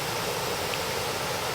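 Kilgore Falls waterfall in Maryland, a steady, even rush of falling water like broadband hiss, moderately loud and unchanging across a brief moment, with no voices.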